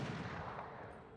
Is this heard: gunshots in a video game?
yes